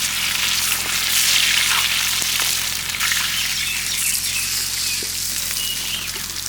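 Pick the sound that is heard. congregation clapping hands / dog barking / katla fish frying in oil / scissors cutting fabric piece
katla fish frying in oil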